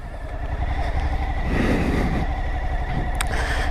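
Suzuki V-Strom 1050 motorcycle riding off-road, a steady engine drone with gravel crunch and wind noise, fairly close and continuous.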